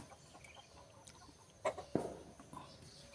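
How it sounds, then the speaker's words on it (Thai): A few faint clucks from chickens in a coop sound at a distance over quiet outdoor garden background noise, two short calls standing out midway. "ซ้ายมือนี้คือเล้าไก่"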